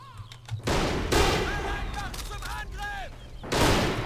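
Gunfire in the Men of War: Assault Squad 2 battle game: heavy booming rifle shots and blasts erupt in loud bursts, with whistling projectile sounds and battlefield noise in between.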